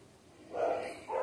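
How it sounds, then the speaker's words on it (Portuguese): A small dog barks a couple of times in the distance, faint and brief, with quiet room sound in between and no talking. "Tem um cachorrinho fazendo barulho."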